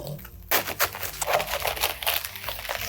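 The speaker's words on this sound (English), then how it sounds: "I'm gonna find the middle of that stem and cut all the way through" A knife cuts through the tough stem of a cabbage, a sudden crunch followed by a rapid series of close, crackling snaps and splits as the blade works all the way through, with no voices.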